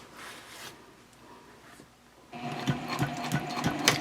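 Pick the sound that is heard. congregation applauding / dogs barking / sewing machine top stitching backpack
sewing machine top stitching backpack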